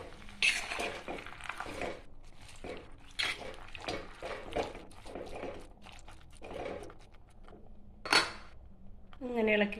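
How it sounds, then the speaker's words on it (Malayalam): Beef is stirred in a cooking pot for a homestyle beef curry, giving intermittent scrapes, clinks and clatters of a utensil against the pot while a person talks over it. "ബീഫ് ഇട്ട് കൊടുത്ത് ഇനി നല്ലതുപോലെ ഒന്ന് ഇളക്കി കൊടുക്കാം."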